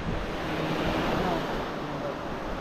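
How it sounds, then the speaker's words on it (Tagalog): Strong sea wind roars across the microphone in a dense, constant rush, with the wash of sea surf blended underneath. "malakas po talaga yung hangin"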